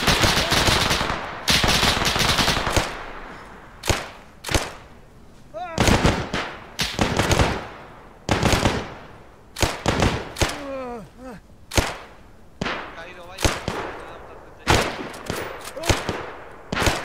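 Machine gun fire in the Arma 3 game during an assault on the Merville Battery: a long, loud, sustained burst opens the clip, followed by scattered sharp shots and short volleys, with brief voices shouting between them.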